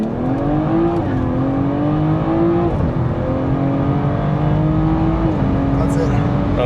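A BMW F30 340i pulls hard from 0 to 100 km/h. Its engine note rises steadily through the gears with short dips at each shift, heard loud and close from inside the car, while people talk over it.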